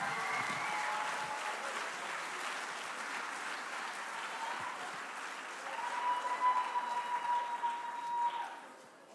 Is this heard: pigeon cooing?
no